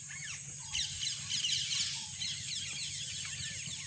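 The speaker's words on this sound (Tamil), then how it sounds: "பறவைகள் சத்தமெல்லாம் கேட்கக்கூடிய மாதிரி இருக்கும்." Faint, busy birdsong chirps and trills in a village over a constant high-pitched whine and a low hum, with no voices.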